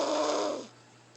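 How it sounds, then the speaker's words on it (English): A two-year-old boy snores loudly in one deep, rasping inhalation close by, trailing off abruptly into quiet. "him snoring like that"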